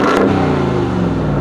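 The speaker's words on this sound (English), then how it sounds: "I'm gonna go ahead and try and get you guys an exhaust clip real quick" A 2022 RAM TRX pickup truck engine revs up loudly and close, a deep throaty exhaust rumble rising then settling into a steady drone.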